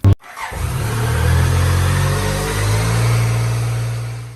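A BMW K75 motorcycle's three-cylinder brick engine starts with a sharp click and settles into a loud, steady, close mechanical hum with slight rises in revs, heard alone without talking.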